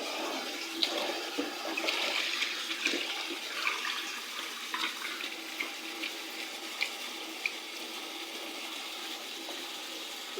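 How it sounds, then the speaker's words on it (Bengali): Soapy water pours steadily into a washtub for laundry, a continuous splashing wash of sound close up, with no talk over it. "এখানে আরও কিছু আছে সাবানের পানি এগুলো অ্যাড করলাম"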